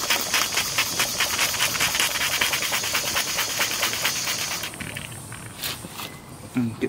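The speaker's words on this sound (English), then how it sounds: "so we're going to try and run the engine now." A Stuart Victoria model steam engine runs on steam from a Stuart 500 boiler, giving off a rapid, even chuffing hiss of exhaust that fades after a few seconds, with a voice talking nearby.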